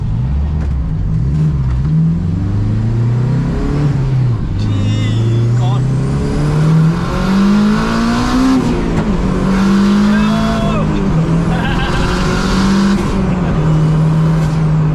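Engines rev hard and pull through the gears as cars race alongside a Civic Type R, a 600 bhp sleeper, the loud droning pitch rising and falling steadily throughout while people talk and exclaim over it.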